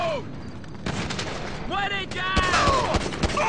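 Gunfire in a military-base raid game, with several sharp shots and bursts popping over game noise while voices talk excitedly throughout.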